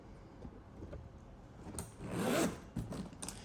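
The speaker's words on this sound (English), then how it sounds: "Just put it down while I unzip it." Filson leather rolling luggage being unzipped, a close rasping zipper pull with a louder stretch in the middle, plus a few handling rubs and knocks around it.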